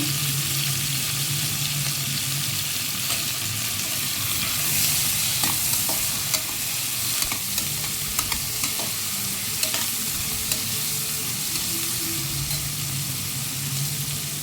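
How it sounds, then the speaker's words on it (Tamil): Onions and tomatoes sauté together in a pan for a meat curry, giving a steady, close sizzle with scraping stirs and soft ticks running the whole time. "எல்லாத்தையும் மொத்தமாக போட்டு வதக்கிடுவேன்"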